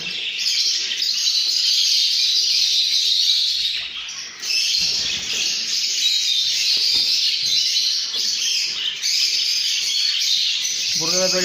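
Many young painted birds, about three and a half months old, chirp and tweet continuously from nest boxes in an aviary, a dense close chorus of high calls with occasional squawks.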